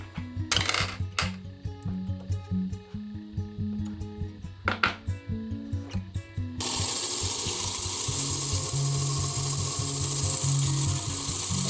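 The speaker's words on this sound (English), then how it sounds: "I'm cutting the crown and I'm using a 180 grit lap" A faceting machine cuts the crown of a smoky quartz gemstone on a 180 grit lap, first with uneven tapping and scraping contacts, then a steady continuous grinding whir up close.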